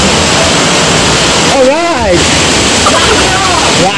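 Water rushes at Wawa Dam in Montalban, Rizal, a loud, constant roar that never lets up, with a voice briefly speaking over it.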